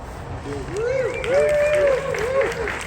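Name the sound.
audience applause and finger snaps at a vigil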